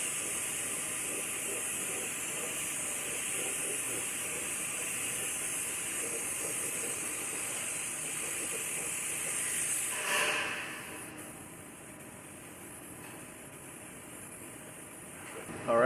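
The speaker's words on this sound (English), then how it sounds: "I'm going to coat all of this with a coat of epoxy primer." A spray gun lays epoxy primer over a cut Ford F-150 truck frame in a body shop, a steady broad hiss that runs continuously, dips briefly near the end, then resumes faintly.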